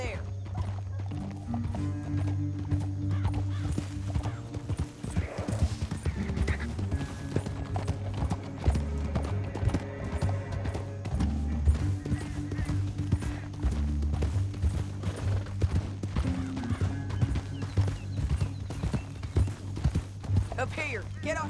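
Horses clip-clopping and galloping over rough ground in the Red Dead Redemption 2 video game, rhythmic hoofbeats with an occasional whinny under a low musical score, while characters talk throughout.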